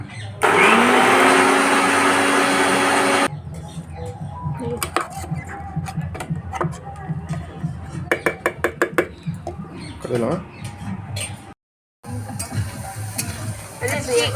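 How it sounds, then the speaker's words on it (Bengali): An electric blender grinds ginger, garlic, cumin and green chili into a paste with a loud steady whine for about three seconds, followed by quieter clattering and handling sounds outdoors. "এদিকে আমি পেস্ট করে নিচ্ছি সামান্য আদা রসুন আর অল্প একটু জিরে দিয়েছি আর একটু কাঁচা লঙ্কা"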